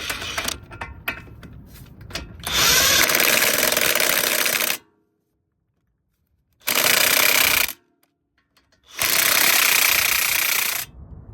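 An impact wrench fires loud, close bursts of buzzing hammering while tightening a 21mm brake caliper bolt on an Audi Q7. Light clicks and handling noise come first, then three separate rattling bursts with silent gaps between them.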